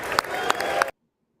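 Part of an audience at a State of the Union address claps with scattered hand claps and crowd murmur, then the sound cuts off abruptly into silence.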